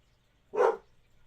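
Bella, a female dog, lets out a single short bark, close and fairly loud against quiet surroundings.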